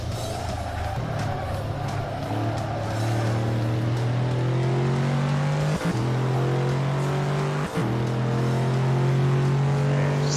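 A car engine drones steadily through a lap in Gran Turismo 4, its pitch climbing through the gears with two sharp shift breaks. The car is a McLaren F1-like machine with conventional seating, heard loud and close with no talk.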